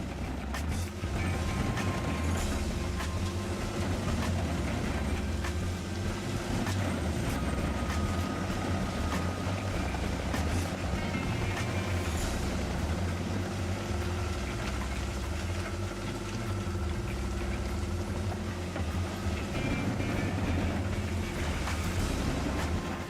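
A JT600 wood chipper grinding wood gives a loud, steady mechanical roar with a low engine drone and rough grinding texture that holds throughout without pause; no talking.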